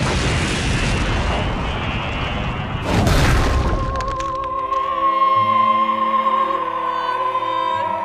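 A cartoon energy blast explosion from a Dragon Ball Big Bang Attack, a loud roaring burst that surges around three seconds, then gives way to ringing musical tones.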